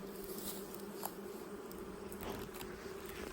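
Honey bees buzz steadily at an open hive, a dense continuous drone close by with no voices over it.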